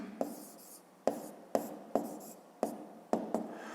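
A pen scratches out numbers on paper during a fifth-grade math exercise, making about seven short, close strokes in an uneven rhythm with brief pauses between them and no voices.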